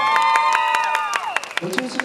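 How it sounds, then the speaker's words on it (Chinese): Crowd of about 500 applauding and cheering at an outdoor getai variety show, with a sung or spoken voice carrying over the clapping at first, then bursts of claps and whoops rising toward the end. "听一下500个人的掌声"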